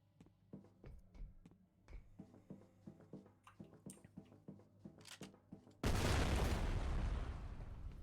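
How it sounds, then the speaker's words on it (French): Mines go off under cannon fire in the F.E.A.R. video game: a rapid series of sharp thuds and pops, then a loud sustained roaring blast that slowly fades. "le radius de l'explosion est assez gros sur le canon, donc pour péter les mines, ça va quand même plus vite que de sortir le fusil à pompe"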